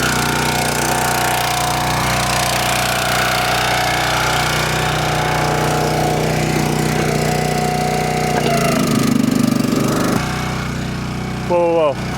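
A Husky wood splitter's small engine runs with a loud, steady chugging drone close by, shifting near the end with a rising rev and a few sharp rattles.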